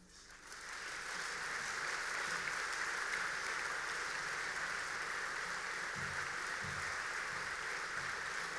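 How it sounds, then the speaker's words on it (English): An audience at a charity gala dinner bursts into applause that swells within the first second, then holds as a steady, dense patter of many hands, moderately distant and fairly quiet. "With a round of applause going for Stuart Kelly, everybody."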